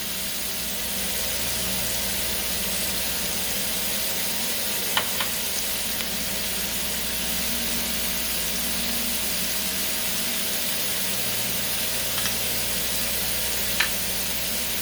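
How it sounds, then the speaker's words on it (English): Meatballs browning in a pan give off a steady, dense sizzle and crackle that runs the whole time, with a few small pops and clinks over it. "So we're going to get these browned on both sides. They look yummy. You can hear me over all the sizzling."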